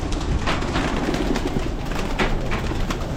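Close, dense cooing of pigeons at a breeder's loft fills the air continuously, with rustling and clattering in the background and no voices.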